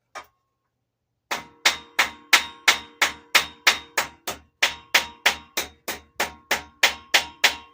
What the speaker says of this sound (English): once you hear that ting sound, you know you got it flat